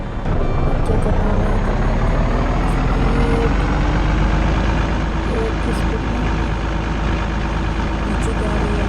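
A truck engine in the driving game Truck Master India rumbles as the vehicle rolls downhill, a loud steady low drone with shifting tonal hum, running continuously beneath occasional speech.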